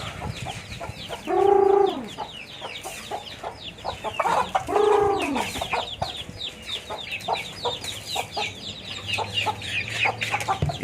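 A flock of chickens clucks and chatters busily at feeding time, with two louder drawn-out calls standing out from the steady background of poultry noise.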